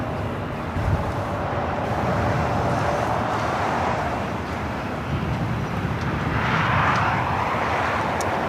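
An American Airlines Airbus A321neo takes off from LAX, its engine roar a steady, loud, broadband rumble that holds for the whole stretch, swelling slightly near the end, with no voices.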